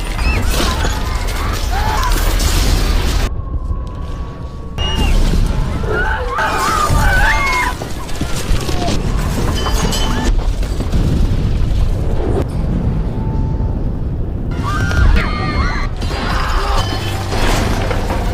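Loud, chaotic blasts and crashing rumbles with shattering debris as planes explode at an airport, bursts of noise broken by brief lulls.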